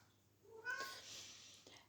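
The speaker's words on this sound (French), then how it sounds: "Ça fait réagir mon chat." A house cat gives a single close meow that rises and then falls, soft to moderate in volume, set against a quiet room with a faint background hum and no speech.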